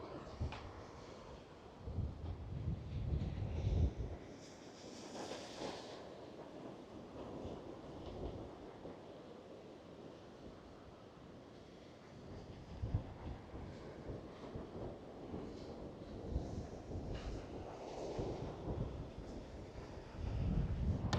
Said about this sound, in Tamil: என் ஃபோனை காற்று திருப்புது, என் ஃபோனே கிம்பிளையே காற்று திருப்புது. நல்ல காற்று.